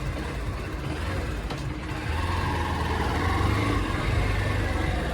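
A scooter engine turns over and settles into a steady low running rumble, growing slightly louder after a couple of seconds, close by with no talking.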